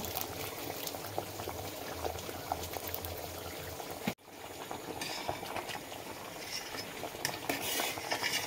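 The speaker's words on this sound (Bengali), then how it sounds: "পানিটা ফুটে গেছে, এরপর চালটাকে দিয়ে দিচ্ছি" Water bubbles at a rolling boil in a pot with rice for Kolkata-style chicken dum biryani, a dense close gurgle with occasional utensil clinks and a brief knock midway. No one speaks.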